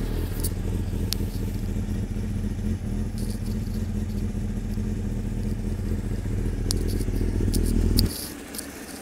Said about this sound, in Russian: Так работает мотор при закрытом глушителе.